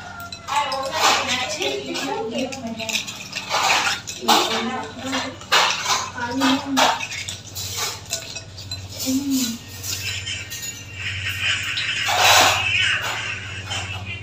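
Plates and cutlery clink and clatter in scattered bursts while a home meal is being laid out, with people talking and calling out nearby throughout.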